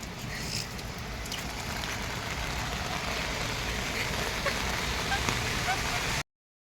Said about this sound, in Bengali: বৃষ্টি হচ্ছে তা তো একদমই ঠিক